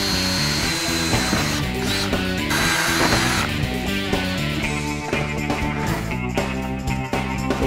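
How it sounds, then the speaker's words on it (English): A 1-inch hole saw bit on a power drill bores holes through a classic muscle car door panel, a steady close-up whirring drone with shifting pitch as the bit bites and eases, running alone throughout. "cutting my holes for the door opening right here"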